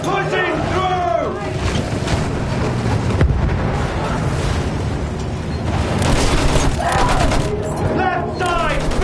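Battlefield 1 field gun firing amid a loud, dense battle din, heavy booms and rumbling blasts under constant gunfire, with shouted voices over the top.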